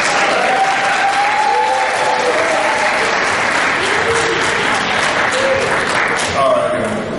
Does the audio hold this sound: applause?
yes